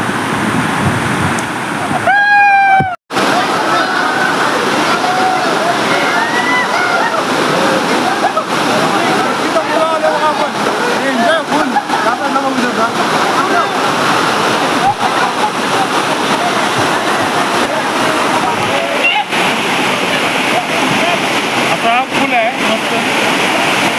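Barki waterfall in Kolhapur during heavy rain, a loud, continuous roar of falling water close by, with brief voices and a short tonal sound near the start.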